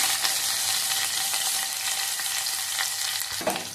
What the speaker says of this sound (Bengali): পেঁয়াজ দিয়ে ভালো করে ভেজে নেব